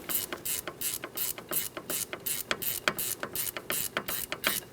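An 11mm ratchet snugs a brake hose bolt onto a Jeep Liberty front caliper, giving a steady run of close, crisp pawl clicks in quick rhythmic bursts with no talking.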